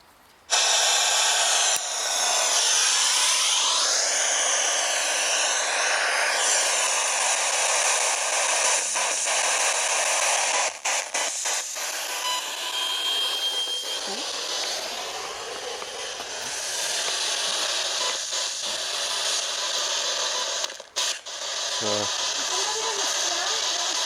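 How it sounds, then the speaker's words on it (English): A frequency-scanning electronic device runs steadily in Ecclesall Woods, a loud, continuous hissing electronic tone with sweeping, wavering pitch that holds for the whole stretch, with a couple of brief dropouts. "It scans through frequencies like a vibration"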